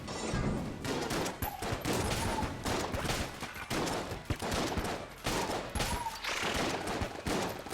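Rapid bursts of gunfire from the video game Enter the Gungeon, dueling pistol and shotgun shots included, crackle in dense volleys with short pauses between them, fairly faint and without talk.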